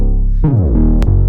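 A thick, gritty bass note with hardware saturation plays alone, loud and close, sliding downward in pitch before settling on a sustained tone with a brief click near the end.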